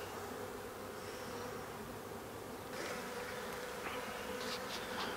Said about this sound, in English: No, I'm looking at the bee that's on you.